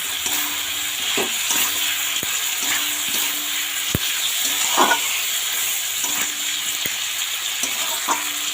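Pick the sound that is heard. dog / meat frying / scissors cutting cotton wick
meat frying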